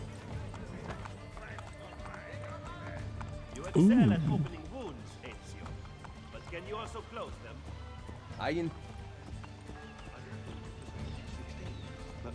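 A horse gallops and neighs in Assassin's Creed Brotherhood, hooves clip-clopping steadily throughout with two loud whinnies standing out, while game voices talk over it.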